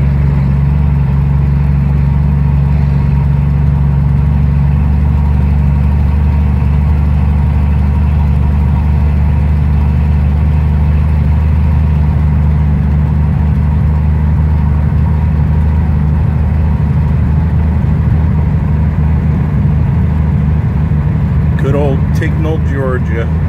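A 1966 Plymouth Belvedere four-door police patrol car drives along with a steady, loud low engine drone throughout, a brief higher-pitched sound near the end.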